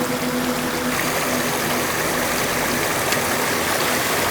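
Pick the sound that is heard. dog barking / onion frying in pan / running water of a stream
running water of a stream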